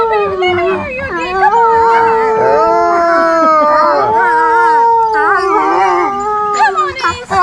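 Loud, close wolves howl together in overlapping, wavering tones, rising and falling for several seconds.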